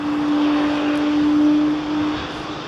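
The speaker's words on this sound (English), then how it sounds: "AIRBUS going on there." An Airbus airliner passes low over London Heathrow, a steady, loud engine roar with a sustained whine, swelling slightly mid-pass then easing.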